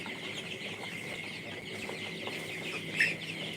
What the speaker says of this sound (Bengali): কালারবাট মুরগির খামারটি